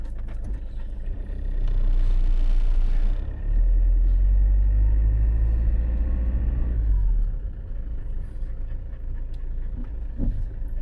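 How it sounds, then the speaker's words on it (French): A 26-tonne truck passes by on the road, a loud, deep low rumble that swells for several seconds and then fades away. "Justement un camion."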